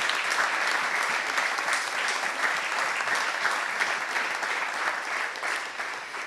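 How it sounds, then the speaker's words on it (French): A conference hall audience at a forum on the Portuguese Carnation Revolution breaks into dense, continuous applause, loud and even throughout, tapering slightly at the close. "tous ces camarades méritent aussi des applaudissements"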